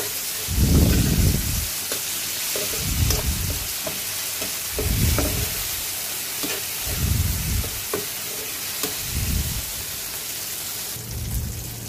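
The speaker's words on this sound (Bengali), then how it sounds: "এখন কাঁচামরিচ দিব, দিয়ে ভালো করে কষাবো।" Dried fish being sautéed with green chillies in a pan: a continuous hiss of frying, broken by rhythmic heavy stirring strokes roughly every two seconds, close and fairly loud, with no voices.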